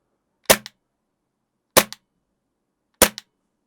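A Tokyo Marui FNX-45 green gas airsoft pistol fires three loud, sharp shots, evenly spaced about a second apart, each with a quick slide clack, close to the mic against silence.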